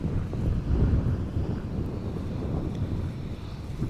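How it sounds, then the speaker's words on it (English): Wind gusts across an open microphone at Amsterdam Schiphol Airport, a low rumbling buffet that swells and eases with faint distant aircraft noise beneath, steady and fairly loud with no talking. "The wind is not blowing as hard as yesterday, but it is blowing more from the west"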